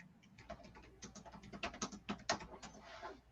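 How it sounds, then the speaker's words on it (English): Faint, rapid tapping on a computer keyboard comes through a remote voice call as an irregular run of soft clicks that builds slightly toward the middle. "I hear a lot of typing"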